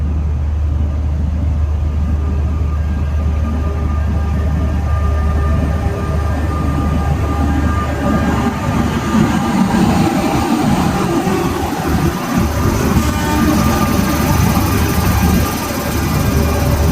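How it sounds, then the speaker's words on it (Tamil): The Taj Express, an Indian Railways passenger train, pulls into a station platform with a loud, continuous rumble and hum of wheels and rolling stock that holds steady for the whole stretch. "நம்ம வண்டி இனிதான் வரப்போகுது உள்ள."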